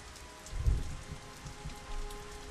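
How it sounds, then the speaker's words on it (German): Rain falls in Batman: Arkham Asylum, a soft, steady patter with a low thud near the start. "Bis jetzt sehen wir nur einen Regenfall."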